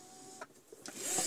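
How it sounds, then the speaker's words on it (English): A BMW 4 Series automatic seatbelt presenter motor whirs briefly, with short mechanical clicks and a rising electric hum as the arm extends, close and quiet. "a little robot hands you your seatbelt"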